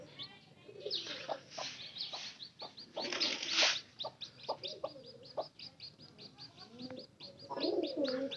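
Pigeons coo in a pigeon house where a hen has laid eggs, a steady run of soft bird calls and clucks with some brighter bursts, close and continuous with no talk.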